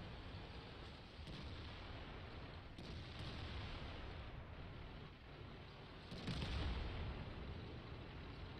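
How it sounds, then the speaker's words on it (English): An IS-7 heavy tank in a video game fires its cannon and the round bounces off: a steady rumbling hiss with faint knocks, then a deep, louder boom near the end. "We take a shot anyway, but it bounces."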